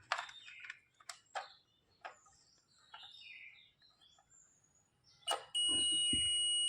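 A multimeter's continuity beep checks a mobile phone charger's fuse. Scattered clicks and taps of the probes come first, then a steady, loud, high electronic tone holds to the end.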